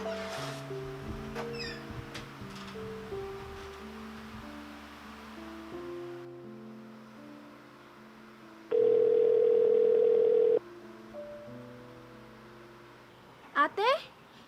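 A mobile phone call tone plays as steady, sustained beeps alongside background music, with a loud, even tone held for nearly two seconds partway through.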